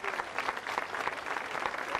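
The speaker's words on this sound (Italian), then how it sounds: "al quale va l'applauso" A crowd applauds at a church celebration in Tricarico marking the start of a bishop's pastoral ministry. The clapping is brief and steady, with a few sharper individual claps standing out, and there is no talk.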